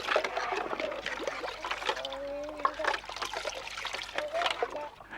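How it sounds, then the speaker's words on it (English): A cup pushed down into water makes gurgling, trickling bubbles in short bursts, fairly quiet, with people talking over it. "if you push a cup down into water, it makes lovely bubbling noises"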